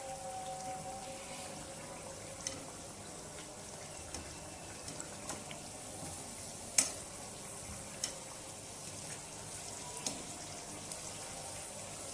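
Keema-stuffed kachoris deep-frying in hot oil, a steady soft sizzle and bubbling that runs throughout, with a few faint clinks and stirring taps.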